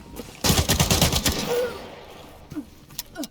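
Rapid burst of automatic gunfire in the shooter game Arena Breakout Infinite, a loud cluster of close shots followed by a quieter tail and a few scattered later sounds.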